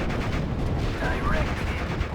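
Tank guns fire in the Normandy 44 D-Day hedgerow battle of Steel Division, heavy booming blasts and rumbling gunfire with voices shouting over the continuous loud din.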